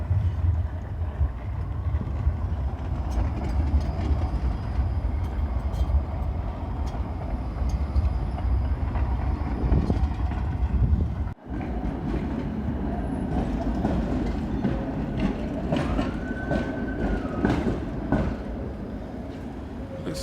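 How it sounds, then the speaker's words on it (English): A trolley tram rolls past on a city street, a loud, steady rumble of wheels on rails that holds throughout, with a brief dropout midway and a rising-falling squeal near the end. "The train coming. Well, the trolley."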